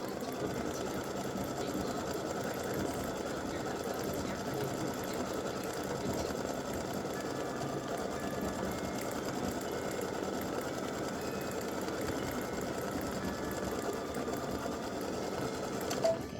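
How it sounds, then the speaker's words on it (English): An embroidery sewing machine stitches gold thread on a Santa legs and bow appliqué design, running as a steady, loud, unbroken mechanical whir throughout with no pauses. "And now I have my gold thread in. And we're going to stitch the gold."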